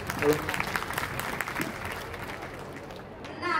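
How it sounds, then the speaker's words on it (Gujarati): A crowd claps steadily to welcome a group of performers at the Ram Janm Mahotsav celebration at Shri Dham Puniyad, a dense, even patter lasting throughout with no clear break. "જોરદાર તાળીઓથી વધાવીશું"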